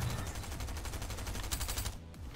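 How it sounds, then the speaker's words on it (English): The Stinger SMG fires in a video game as one rapid, sustained burst of evenly spaced shots lasting about two seconds, close and fairly loud, then cuts off. "Stinger SMG. Let's test this thing out."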